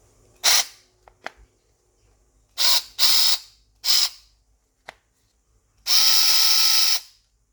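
Makita DF333 cordless drill, fitted with a replacement RS 550 motor, runs in a test: four short whirring bursts followed by one longer steady run, with brief clicks between them, close up, with no talk.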